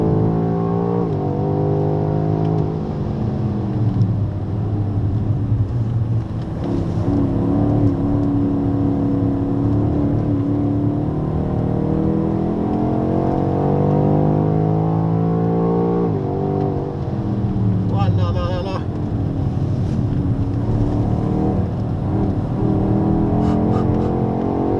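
Onboard a BMW X6M SUV on the Dijon circuit, the engine drones loud and steady throughout, rising and falling in pitch through gear changes and corners with no break.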